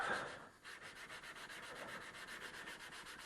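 A wooden bandsaw box being hand-sanded: a steady, close, rhythmic rubbing of sandpaper on wood with short repeated strokes, heard alone.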